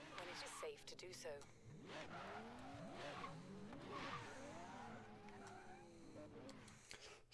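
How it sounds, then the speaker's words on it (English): Cars race and skid in Forza Horizon 3, engines droning with sliding pitch sweeps and squealing tires, a continuous dense mix with a voice talking underneath. "So you just saw how my car performed right there, how it was out in front of everybody and then it hit fourth gear."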